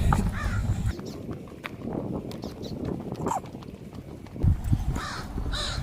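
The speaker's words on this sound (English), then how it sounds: "Oh, there's a crow." A crow caws a few times at moderate distance, harsh calls breaking through a noisy outdoor background with rustling and low rumble.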